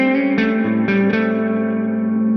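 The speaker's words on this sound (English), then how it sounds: "where the note gets kind of engulfed in the reverb immediately" A single electric guitar note rings out through a Tonex spring reverb effect, then a few more attacks follow, each swallowed at once into a dense, sustained wash of reverb that hangs on loudly to the end.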